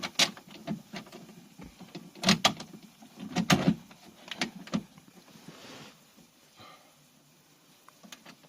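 Rear electric window motor on a five-door Peugeot 306 running in short bursts, with sharp clicks and mechanical knocks scattered over a quiet, moderately close background.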